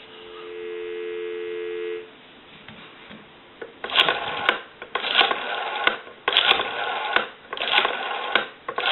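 A steady dial tone from a Western Electric 302 rotary desk telephone hums for about two seconds, then cuts off, followed by bursts of rubbing and handling noise.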